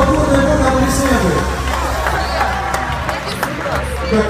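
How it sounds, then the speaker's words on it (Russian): A concert hall audience claps and cheers loudly in a dense, continuous wave of applause, with a presenter's voice and crowd chatter mixed in. "Тимур, Тимир, друзья, и все, бурные аплодисменты."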